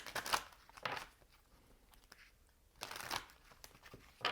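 Tarot cards shuffled by hand in two distinct bursts of riffling, close and fairly quiet, with a brief pause of soft rustling between them and no talking.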